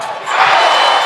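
A volleyball crowd roars to its feet at a Hawaii men's match, the Rainbow Warriors hosting the opposing side, as a loud, sustained wash of cheering and yelling fills the arena for the whole moment.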